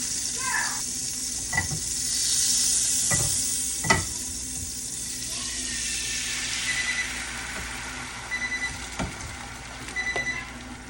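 Egg white frying in butter in a pan: a soft, continuous sizzle with occasional sharp scraping and tapping of a utensil against the pan, heard close with no talking.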